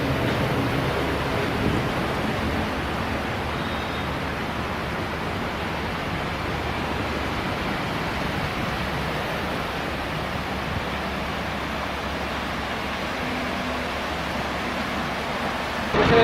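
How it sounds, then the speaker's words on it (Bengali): Small waterfall near Maithon Dam, a steady broadband rush of falling water that stays even and fairly loud throughout, with no voices. "একটা ছোট্ট ঝর্ণা রয়েছে"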